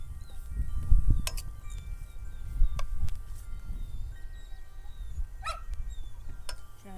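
Faint dog whimpers and yips at a distance in a home kitchen, scattered and brief over low room noise and light clatter.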